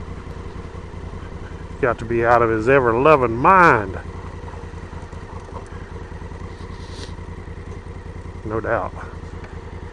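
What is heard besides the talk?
Honda Africa Twin CRF1000L motorcycle riding on ice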